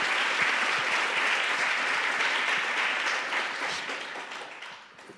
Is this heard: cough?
no